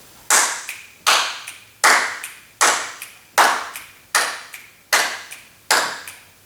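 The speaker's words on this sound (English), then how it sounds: "So count up to 8, 8 claps and the snips right in the center" Eight sharp, evenly spaced claps from a jazz tap dance routine ring out in a steady rhythm, close and loud, each with a bright attack and a quick decay.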